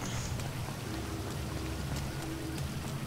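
Steady rain pours down in the online game GTA Online, a continuous broadband hiss of drops on surfaces with a faint low hum beneath, filling the whole stretch at an even level.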